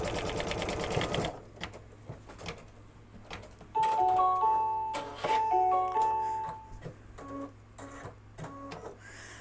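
An embroidery machine stitching at about 600 to 700 stitches per minute, with a fast, even mechanical ticking and whirring heard close up, plus a few brief electronic beeps.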